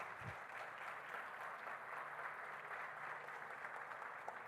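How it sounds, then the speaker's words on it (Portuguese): A church congregation claps in an even, continuous patter, faint and distant, with no voices standing out. "Você pode aplaudir a Deus pela palavra dele?"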